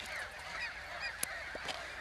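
A goose honks faintly several times amid a steady outdoor hiss, the calls soft and distant with a brief sharp click standing out partway through.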